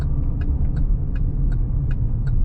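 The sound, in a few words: car driving on foggy road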